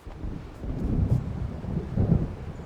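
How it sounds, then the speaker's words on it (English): Approaching thunderstorm in the video game Alan Wake, low rolling thunder rumbles swelling twice over steady rain and wind, fairly loud and continuous with no talk. "It seems there's a storm coming."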